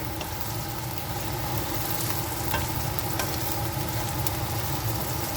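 Tender pre-boiled pork sautéing with bagoong alamang shrimp paste gives a steady, dense sizzle in the pan, with light stirring scrapes and no voices.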